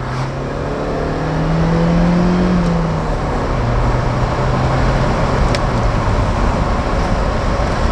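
A Mercedes-Benz SLK R170 roadster without the Kompressor engine drives along a road and accelerates, its steady engine drone rising in pitch through the gears under continuous road and wind noise, loud and close from inside.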